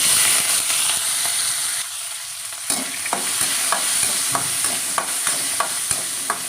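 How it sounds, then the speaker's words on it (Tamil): Curry leaves and onion sizzle in hot oil in a pan while being stirred, with a steady loud frying hiss and regular scraping strokes of the spoon close up. "கறிவேப்பிலையும் வெங்காயம் போட்டு லைட்டாக வதக்கிக்கலாம்."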